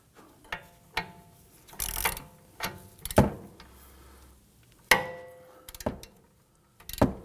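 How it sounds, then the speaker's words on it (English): Ratchet wrench tightening the strut bolts on a 2003-2014 Volvo XC90 during front strut and spring assembly replacement, heard as several separate bursts of close mechanical clicking and clanking with short pauses between them. "Let's go ahead and torque this down to 36 foot-pounds."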